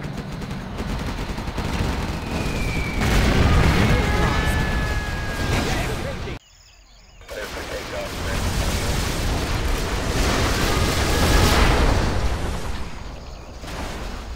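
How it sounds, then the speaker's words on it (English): A fuel air bomb explodes in Command & Conquer Generals, a long, loud, roaring blast and rumble with crackling debris and gunfire that cuts out briefly and swells again. "Fuel air bomb should be enough."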